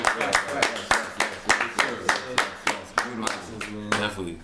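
A group clapping their hands in a steady, even rhythm at a podcast celebration, the claps fairly close and moderately loud, with voices talking underneath.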